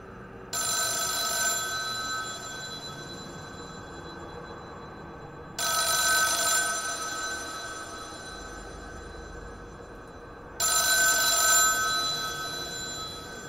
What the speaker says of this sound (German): dieses Telefon hier so voll nervig rumklingelt die ganze Zeit